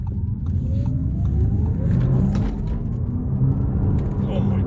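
An Audi RS e-tron GT electric car accelerates, its rising synthetic whine climbing steadily over road rumble from inside the cabin, with someone speaking over the sound.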